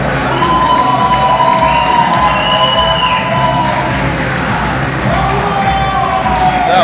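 A crowd at a hardcore wrestling match cheers and applauds loudly and continuously after a victory, with shouts and whoops rising from the arena and a commentator talking over the noise.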